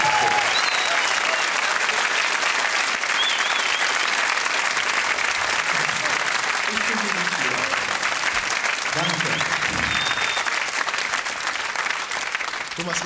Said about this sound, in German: Aber ich brauche einen Applaus